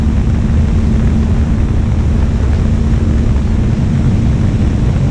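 An RC Sopwith Camel model airplane flies in smooth conditions, its engine a steady loud droning rumble with heavy wind buffeting, continuous and unvarying throughout.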